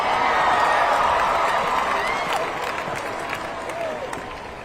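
Graduation ceremony crowd at Autzen Stadium, a wide wash of applause and cheering that fades gradually, with scattered whistles and shouts rising over it near the end.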